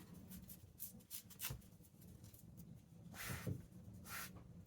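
Paper book spine being torn by hand for junk journal crafting, a few short dry ripping bursts with a longer rustling tear near the end, close and quiet, with light handling rustle in between.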